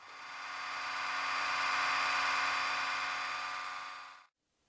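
A Panasonic shaver cleaning station running its clean and dry cycle gives a steady whirring motor hum that holds evenly for about four seconds and then cuts off abruptly into near silence.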